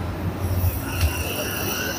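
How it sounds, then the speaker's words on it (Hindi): Karachi metro train pulling into an elevated station, a steady rumble with long high wheel squeal tones running throughout, heard close and continuous with faint background talk. "और ये मेट्रो। ओके, कराची की जी मेट्रो।"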